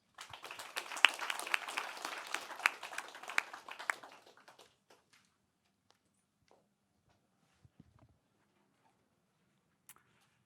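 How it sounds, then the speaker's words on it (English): A small audience at a startup pitch competition claps for the first pitcher, with brisk scattered applause for about four seconds that quickly dies away into near silence broken by a few faint stray sounds. "And big round of applause for the first pitcher."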